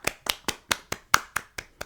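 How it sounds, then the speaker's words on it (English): A quick burst of about nine sharp, evenly spaced hand claps, close and crisp, with no talking over them. "Can we give him a round of applause?"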